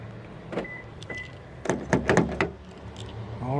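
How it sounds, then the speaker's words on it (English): A Toyota Camry power door lock actuates, giving a short series of sharp mechanical clicks and clunks close by, followed by a faint rising whir at the end, with no voices. "now I'm going to lock the door."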